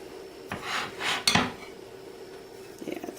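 A spoon scrapes and clinks against a baking dish in a few separate strokes while crisp topping is spooned over blueberry filling. Softer rustling follows near the end.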